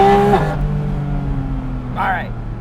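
A Porsche 718 Spyder RS engine revs inside a tunnel, a loud steady sustained tone with a pitch drop early on and a rising rev sweep near the end, echoing off the walls.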